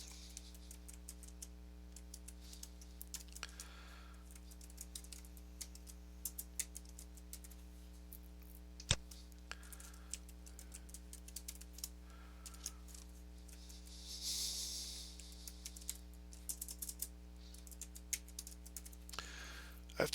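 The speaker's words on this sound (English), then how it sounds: "Now I'm going to enter my email." Keys on a computer keyboard are tapped out in scattered short bursts and single clicks, quiet and close, with pauses between groups over a steady low electrical hum.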